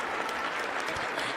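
An audience claps steadily at a gathering, a dense, even wash of many hands without pauses and no clear voices over it.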